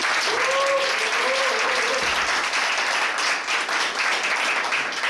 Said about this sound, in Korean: 즐거운 시간 잘 이끌어달라고 응원의 박수 부탁드립니다